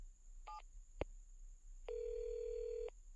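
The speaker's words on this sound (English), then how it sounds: "Mr. Williams picked up the phone and dialed his home number." A home phone number is dialed on a telephone: a short tone beep, a click, then a longer steady dialing tone, fairly quiet over a faint low hum.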